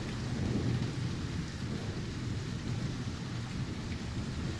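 Deep, sustained thunder rolls on without a break beneath heavy, steady rain in a Bath storm, a thick low rumble swelling slightly early on, with no one talking.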